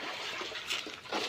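Laundry, including shorts, is rinsed by hand in water, with soft splashing and sloshing in short uneven bursts, fairly close, and no voices.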